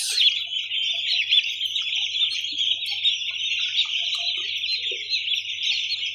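Many young Big6 chicks peep in a dense, continuous high chorus, close and steady throughout, with no talking over it.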